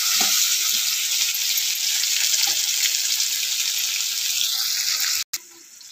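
Potato and onion fry in a pan with a steady, loud crackling sizzle throughout, briefly interrupted by a sharp cut before a quieter hiss resumes.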